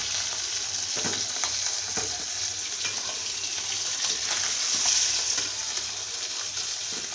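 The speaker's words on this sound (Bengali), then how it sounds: "মাছ এখন আমি উল্টে নেব, দেখি আজকে হয়েছে কিনা" Folui fish fries in oil in a pan, giving a steady, close crackling sizzle that continues evenly throughout with small pops and no talk.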